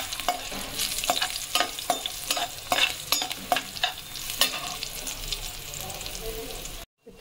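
Crunchy beans stir-frying in a hot pan, a loud sizzle broken by rhythmic scraping strokes of a spatula, close by and alone, cutting out briefly near the end.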